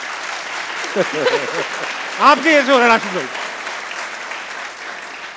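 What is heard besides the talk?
studio audience applause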